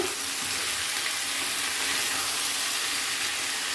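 Winter vegetables fry in a pan with a constant loud sizzle and hiss while being stirred, steady and close from start to finish, no talking.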